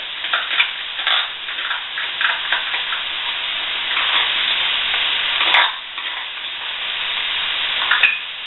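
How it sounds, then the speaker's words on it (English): Tomato puree goes into a hot frying pan for Cajun po'boy pasties and gets stirred, making a loud continuous sizzle broken by repeated scraping strokes and a couple of sharp clicks. "Now I'm going to start adding some of this tomato puree."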